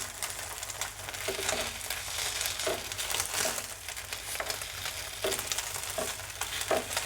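Mor Kali, a Tamil-style dish, frying in a pan as it is turned over: a steady, dense sizzle runs throughout with scattered soft stirring and scraping clicks, close and fairly loud, with no voices.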